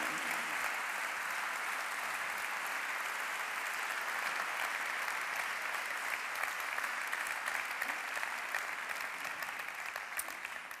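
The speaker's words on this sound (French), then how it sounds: "je vous demande de l'applaudir" An audience applauds at an academic opening ceremony, a dense sustained clapping from a large crowd that holds steady for several seconds and slowly fades.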